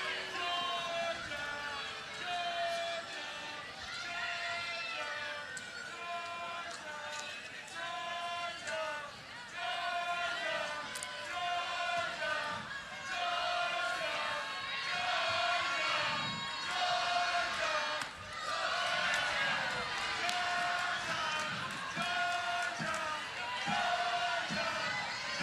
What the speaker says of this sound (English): Biggest crowd of the season here at the Jack.